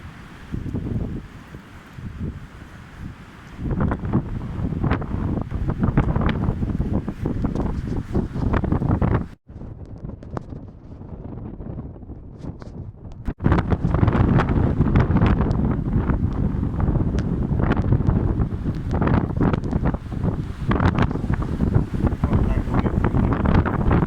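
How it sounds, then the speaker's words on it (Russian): Strong gusty wind batters the microphone by a river on a stormy morning in Tallinn, Estonia, a loud roaring buffet that drops out briefly in the middle before returning even harder. "Ветер."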